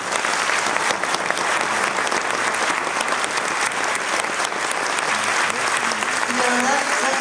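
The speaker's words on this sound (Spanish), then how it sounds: "les quiero pedir otro aplauso" Sustained, dense applause from a theatre audience at a performance of The Vagina Monologues, loud and steady throughout with no pauses, and a faint voice emerging near the end.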